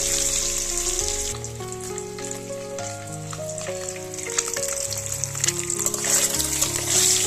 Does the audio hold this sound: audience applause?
no